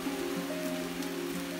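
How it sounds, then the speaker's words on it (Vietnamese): Steady rain falls through a forest in the Truong Son mountains, a dense, even hiss of drops on leaves and ground that carries on unbroken throughout. "Bây giờ trong rừng tiếp tục làm mưa."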